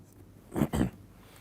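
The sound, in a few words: writing down the wave equation during a lecture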